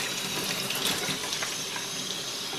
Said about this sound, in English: I let clean water run through all of it.